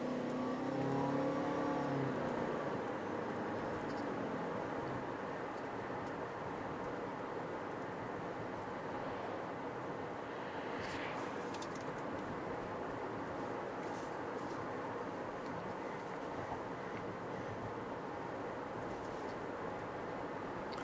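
A 2021 Toyota Venza Hybrid XLE accelerates in sport mode with a steady, moderate cabin drone of engine and road noise, heard from inside the car.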